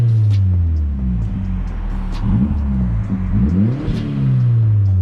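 An MK4 car engine fitted with a CTS cold air intake revs up and down repeatedly, its rising and falling drone loud and close, with intake whoosh over each climb and no voices.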